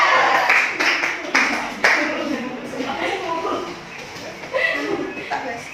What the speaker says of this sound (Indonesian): Kita beri tepuk hebat untuk kita semua ya.